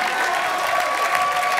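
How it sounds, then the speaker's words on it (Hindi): Audience applause at a comedy show, a short burst of dense, steady clapping from a crowd, fairly loud and close, with no speech over it. "ताली वाली बजाया है"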